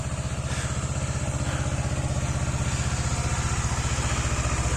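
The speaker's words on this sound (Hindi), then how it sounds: "एक तो फाइनली बाइक स्टार्ट हो गई" A motorbike engine idles steadily after starting on a cold night camping near Shinku La, its fast even exhaust pulse loud and close, running alone without talk.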